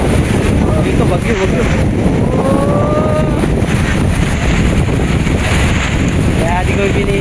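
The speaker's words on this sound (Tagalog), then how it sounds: "malakas ang ulan. Malakas ang hangin." Strong gusting wind of a typhoon roars and buffets the microphone continuously, with a dense, steady wash of heavy rain underneath and faint voices in the background at a market.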